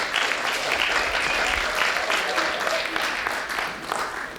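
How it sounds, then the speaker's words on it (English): A church congregation applauds steadily throughout, a dense and even wash of clapping from many hands in a large room, with faint voices under it. "So why don't we give a quick round of applause?"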